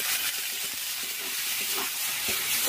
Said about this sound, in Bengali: আদা রসুনটা এবার ভালো করে কষিয়ে নেব